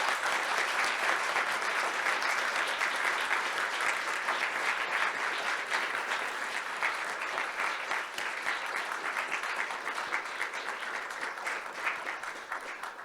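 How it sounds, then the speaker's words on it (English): Audience applause for the debaters after a live in-person debate, a full, continuous crowd of clapping that stays loud and even for many seconds before tapering gently, with no voices on top. "So I'll give a round of applause to our debaters,"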